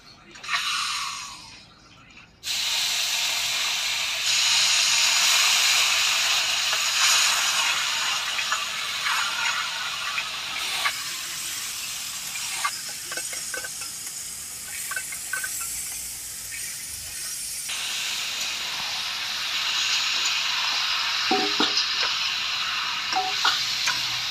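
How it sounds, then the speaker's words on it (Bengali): Marinated meat dropped into a hot kadai for a coriander-leaf mutton dish, starting with a quiet moment before erupting into a loud, sustained sizzle with intermittent stirring and spatula scrapes, close up. "তো আমি এখন ম্যারিনেট করা মাংসটা কড়াইতে দিয়ে দিব।"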